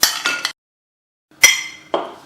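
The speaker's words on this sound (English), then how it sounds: "whisk it well" A metal whisk clinks against a bowl while yogurt and mashed banana are mixed, a few bright taps in quick succession. A pause follows, then two more sharp clinks.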